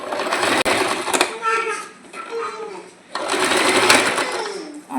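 A sewing machine stitches blouse fabric in two rapid loud bursts separated by a short pause, with someone talking over and between the runs.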